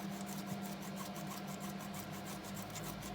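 A hand pump primes the fuel system of a diesel Mercedes W123, giving a steady, close rasping and rubbing with faint rhythmic strokes throughout.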